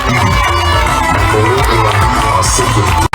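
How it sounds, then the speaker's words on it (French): A large crowd of schoolchildren cheers and shouts loudly and without pause at a school in Ngaliema, their voices filling the space as one jubilant roar. "englouti par une foule d'élèves en liesse"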